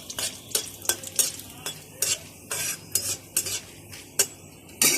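Bay leaves and garam masala crackle in hot oil as a utensil stirs and scrapes the pan, giving repeated sharp clinks and scrapes over a light sizzle, close up, with no voices.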